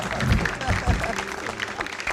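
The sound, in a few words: applause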